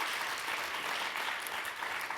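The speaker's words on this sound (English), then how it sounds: "Clap for that." A conference audience at a summit claps together in a dense, steady burst of applause, even and fairly loud throughout, with no voices on top.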